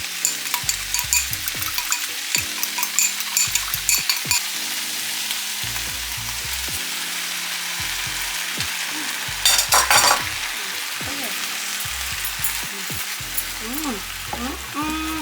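Cabbage sizzles loudly in a hot pan while shrimp fried rice is stir-fried, with steady frying hiss, scraping spatula strokes, clattering metal and a burst of sharp clanks near the middle, all close up with no talking.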